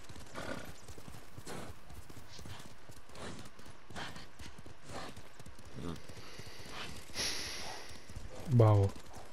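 In the video game Ghost of Tsushima, steady horse hoofbeats clip-clop at a walking pace, moderately near, with a horse's short whinny near the end; a voice talks occasionally.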